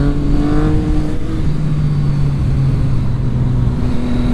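A Yamaha FZ-09 motorcycle engine drones loud and close as the rider accelerates, a steady mid-pitched roar with a rising tone and wind noise throughout.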